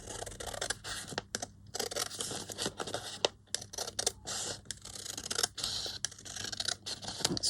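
Paper trimmed for a Christmas card page, with a steady run of close scissor snips and crisp papery cutting strokes broken by short gaps.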